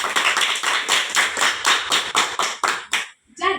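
A small group of students clapping for a classmate in a classroom lesson: about a dozen quick, rhythmic, near claps in a steady beat that stops abruptly, followed by a brief voice at the end.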